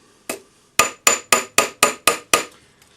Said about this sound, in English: I'm using my French jeweler's hammer for this